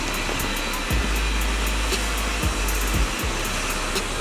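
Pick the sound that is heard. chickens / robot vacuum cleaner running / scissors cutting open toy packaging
robot vacuum cleaner running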